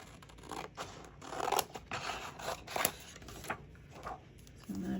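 Scissors snipping around the edges of paper for a crafted memory dex, close and fairly quiet, with irregular short cutting strokes and light paper rustle throughout.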